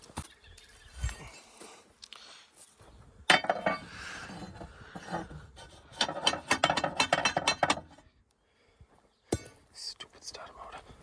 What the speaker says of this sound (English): Stupid starter motor.